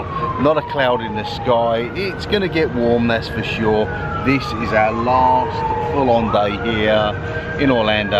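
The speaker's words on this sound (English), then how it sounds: "We've heard nothing but sirens." A wailing emergency vehicle siren in Orlando near Universal Studios rises and falls steadily in the background while someone talks continuously over it.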